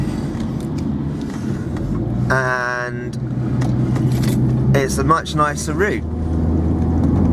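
Cars drive along a fast road beside a canal, a steady close traffic rumble with a passing vehicle swelling in the middle while a person talks over it.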